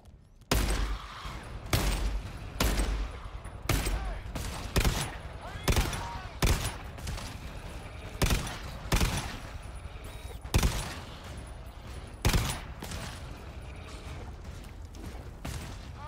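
Bursts of sentry turret gunfire in the co-op horror shooter GTFO, a dozen or so sharp repeated volleys spaced a second or two apart, fairly close, with faint mechanical clanks between them and no talk.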